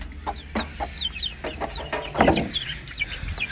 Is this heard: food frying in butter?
no